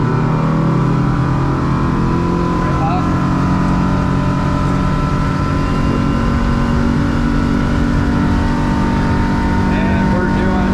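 Hewescraft Searunner 210 motorboat running at about 40 mph, a loud, steady engine drone mixed with wind and water rush throughout, close up.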